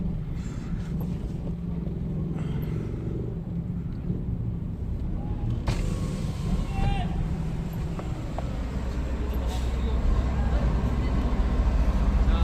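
A car crossing the Karachi toll plaza on the M9 motorway, heard from inside as a steady, heavy rumble of engine and road noise that swells slightly toward the end, with people talking over it.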